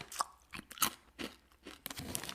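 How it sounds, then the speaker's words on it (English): Corn nuts crunch and crack between the teeth, close and crisp, with irregular loud bites and chewing in quick succession and no talking. "Can you hear the crunch?"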